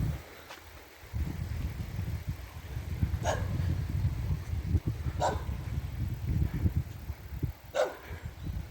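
A dog barks a few times at a distance, spaced seconds apart, over a steady low outdoor rumble in a meadow near the Kamianka waterfall.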